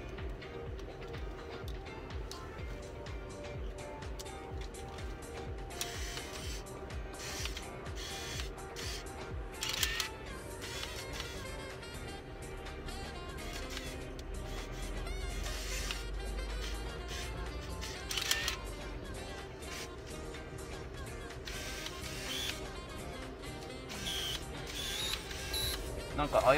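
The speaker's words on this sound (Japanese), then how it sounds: "シャッターは切れましたよ。" Mechanism of a secondhand Minolta α7000 film SLR camera with crumbling grip rubber whirs and clicks, with several sharp shutter-and-winder bursts standing out over a steady hum and faint background noise.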